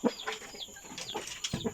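Broiler chickens about 48 days old on a farm, clucking in short overlapping calls close by with some rustling and movement, no talk.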